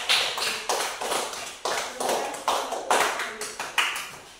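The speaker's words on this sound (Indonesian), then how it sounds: "mari kita memberikan aplaus ya untuk kelompok" Schoolchildren at an environmental education session at an elementary school in Sano Nggoang clap for a group, a steady run of fairly close applause bursts with rhythmic pulses and no speech.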